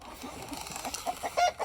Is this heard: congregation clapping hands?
no